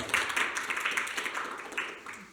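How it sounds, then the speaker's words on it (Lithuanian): A church seminar audience claps in welcome, a soft, fairly distant patter of scattered applause lasting a couple of seconds. "kviečiu pasveikinti Linos seminaro pradžią plojimais, padrasinimo plojimais"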